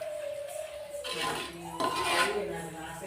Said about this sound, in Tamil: இப்போ ப்ரானை போட்டு இதை நல்லா மிக்ஸ் பண்ணி விட்டுடலாம்.